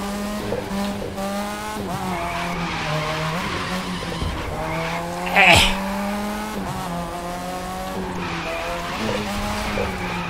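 A car drifts in the racing video game The Crew 2, its engine droning with repeated rising gear shifts under a continuous tire skid, with one sharper squeal burst partway through while people talk over it.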